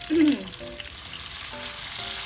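Spices sautéing in a pan give a soft, continuous sizzle, with a brief tonal scrape of utensil against pan near the start and faint clinks afterward.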